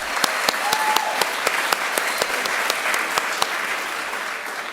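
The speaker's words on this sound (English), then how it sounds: "you get the first round of applause." An audience at a political debate claps in a steady, sustained round of applause, individual hand claps sharp and distinct against a dense wash of clapping, with no talk over it.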